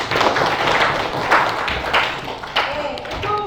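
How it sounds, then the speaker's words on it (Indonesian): Classroom applause, with a group of students clapping hands in a brief, uneven burst of close, loud claps that tapers off, followed by a voice speaking. "Ya, tepuk tangan."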